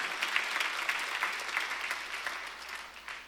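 A church congregation claps together during a Sunday worship service, a dense, steady round of applause that rises and falls slightly and fades near the end.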